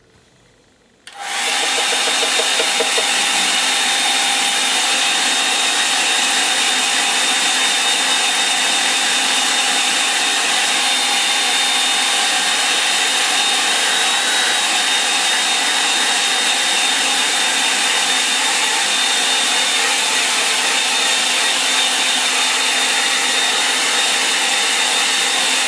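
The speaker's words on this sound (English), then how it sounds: "blower on." Electric blower switched on after a brief quiet moment, then roaring loudly and steadily as it dries a surface, a constant airy whine with a thin high tone running unchanged to the end.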